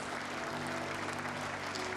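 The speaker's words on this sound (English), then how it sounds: "Thank you for an applause for this last MOU" Steady, dense applause fills a business forum MOU ceremony at a hotel, even clapping from a crowd with no voices over it.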